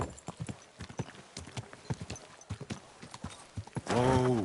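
Video game horse hooves clip-clop in a quick, steady rhythm close by, ending with a loud whinny.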